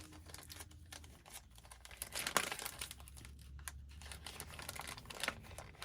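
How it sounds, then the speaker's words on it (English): Heat transfer paper packet of glitter sheets being opened by hand, with close, uneven crinkling and rustling of plastic packaging and a sharper tearing burst midway, no talking. "Let's open the packet up."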